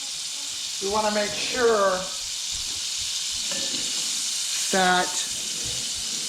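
Butter sizzles in a pan before filet steaks are seared, a steady soft hiss running throughout beneath a voice speaking in short phrases.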